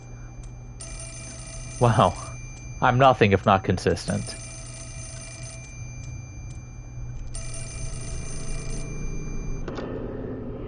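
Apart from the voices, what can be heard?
telephone ringing in Fatal Frame 4 video game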